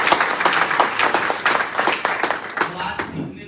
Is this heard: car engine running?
no